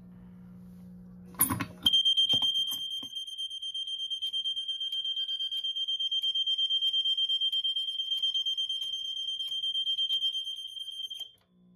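After a click and low hum, a Notifier SGL-2000 fire alarm panel sounds continuously without signal coding, a shrill rapid pulsing buzz, loud and steady for about ten seconds before cutting off.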